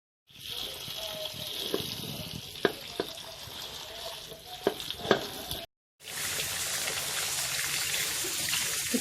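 Mustard greens and spinach are washed in water, with splashing, sloshing and a few sharp clatters, broken by a brief silence before the running water resumes.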